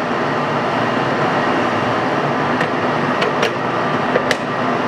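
A Servo 16.5 x 40 metal lathe with a 9-inch three-jaw chuck runs under power feed, giving a steady, loud broadband mechanical hum with a few faint sharp ticks near the end.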